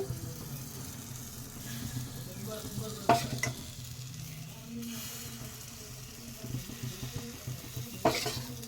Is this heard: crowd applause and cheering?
no